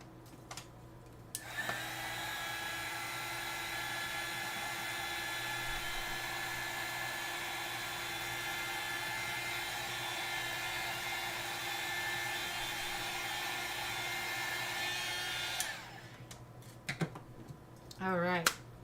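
A hair dryer blows steadily on alcohol marker coloring done with Ohuhu markers. Its loud, even whir runs for about fourteen seconds, then cuts off and is followed by a few small handling clicks.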